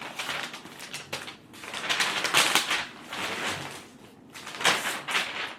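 Wrapping paper crinkling and rustling as a gift is wrapped, a close, continuous papery crackle rising and falling in bursts over several seconds with no talking.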